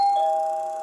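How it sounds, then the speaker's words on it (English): A doorbell chime rings once as a drama sound effect, a clear sustained ding tone that rings out and slowly fades, heard alone with no voices. "Suddenly he hears a doorbell."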